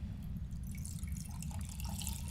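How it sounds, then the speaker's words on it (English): Water poured into a glass, a soft trickle and drip that stays quiet above a steady low hum throughout, with no voices. "Just pour my water if you don't mind that."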